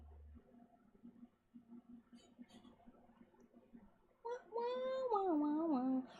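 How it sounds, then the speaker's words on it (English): Ancient, elderly cat giving one drawn-out, wavering meow near the end, loud and close, after a quiet stretch of faint soft voices and room noise. "She's my decrepit, ancient old woman cat."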